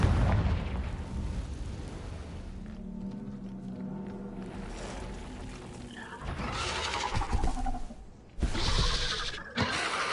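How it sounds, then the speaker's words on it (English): Confringo explosive spell blasts in Hogwarts Legacy, a few booming bursts with rumbling tails over game ambience and music, the loudest hits landing near the end. "Confringo!"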